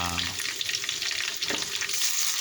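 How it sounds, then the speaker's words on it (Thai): Garlic and pork are stir-fried in a pan for Thai egg fried rice. A loud steady sizzle runs under a brisk scrape of the spatula partway through, and no one speaks. "ตอนนี้เราผัดกระเทียมกับหมูก่อนนะครับ"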